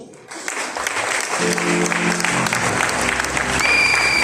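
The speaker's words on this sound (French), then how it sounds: "Sous nos acclamations." A wedding crowd breaks into applause and cheering, a dense wash of clapping that swells and holds loud with tonal sounds running underneath.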